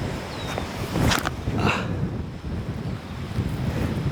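Steady wind roars and buffets the microphone throughout on a disc golf course, with gusts swelling in the middle and faint outdoor rustle underneath.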